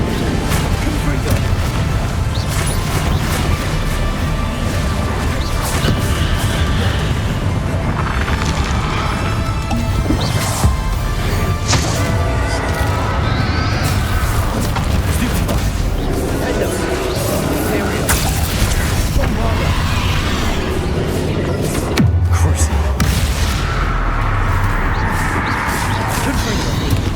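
Confringo spell explosions in Hogwarts Legacy going off amid loud combat, with repeated booms, crashes and smashing hits packed densely together, and voices shouting over the clamour.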